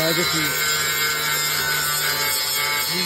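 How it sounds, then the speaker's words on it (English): Grinder working rust out of the rocker panel on a 1961 Chevrolet Impala, a steady abrasive rasping and whine that runs continuously at close range with a faint voice underneath. "Grinding away."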